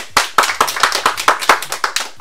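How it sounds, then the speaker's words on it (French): A small group claps in welcome for a schoolboy, a quick run of sharp, close handclaps in a fairly steady rhythm lasting a couple of seconds with no talk over it. "On accueille sous un tonnerre d'applaudissements Aylan."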